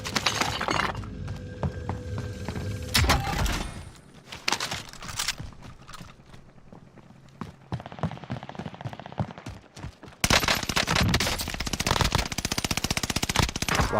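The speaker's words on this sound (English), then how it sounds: "I'm getting shot from somewhere else now." Automatic and single-shot gunfire from the shooter game Call of Duty: Warzone, loud dense bursts at the start, then scattered cracks and shots through quieter stretches before another heavy sustained volley at the end; no speech.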